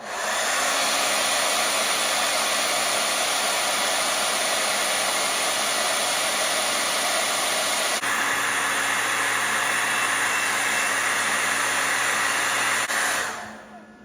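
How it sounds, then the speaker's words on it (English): A hair dryer powered by an AllPowers S2000 portable power station blows steadily at close range, a loud constant whooshing roar that cuts off abruptly near the end. "I'll hit the hair dryer on it again."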